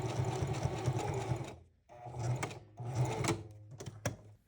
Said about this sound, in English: I'm going to do a base stitch right on this line